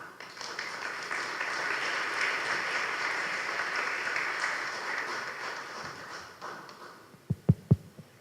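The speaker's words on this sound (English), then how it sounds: "Let's welcome our panelists with a big round of applause, please." Forum attendees at a mechanical engineering and mechatronics event give panelists a big round of applause, a broad steady clapping that fades near the end, followed by a few sharp thumps like a microphone being handled.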